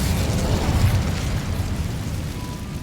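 Incendio fire spell cast in Hogwarts Legacy, a dense roaring whoosh of flame with rumbling low bursts, loud and sustained for a few seconds before easing off slightly, no voices.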